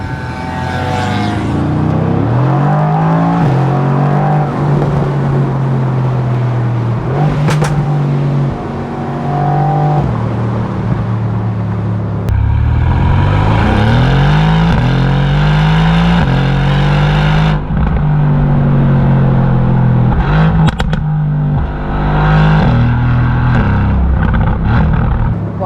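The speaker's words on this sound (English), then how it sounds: "The exhaust valves are opening." A Mercedes-AMG GT R Roadster engine in Sport Plus mode with exhaust valves open revs hard several times, the loud exhaust roar climbing and falling in pitch with throaty rumbling between pushes.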